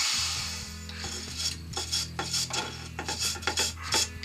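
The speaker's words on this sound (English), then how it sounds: "I'm just using a brass brush to take the shavings out." A brass brush scrubs wood shavings out of a hollowed wooden bowl, quick close rasping strokes in an uneven series, with a steady low lathe hum running underneath.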